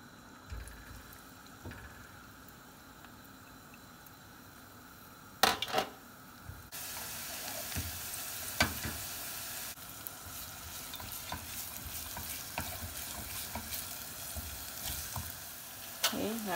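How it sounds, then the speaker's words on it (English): Garlic fries in a pan, a steady close hiss with stirring scrapes and a few louder clatters, running continuously with no talk over it. "Okay, put your garlic in."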